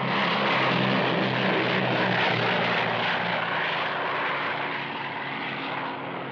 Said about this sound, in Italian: Un aereo gemello noleggiato da 3 giornalisti tedeschi ci precede.